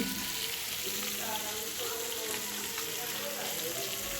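Fish frying in a pan, a steady broadband sizzle with crackling spits that holds at an even level throughout, faint kitchen stirring underneath.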